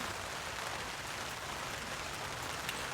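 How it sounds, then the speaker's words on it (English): Steady rain drums down during a heavy storm while camping in a car under a tarp, a dense, even hiss of drops close by with no talking. "And we're going to settle in for some nice rain."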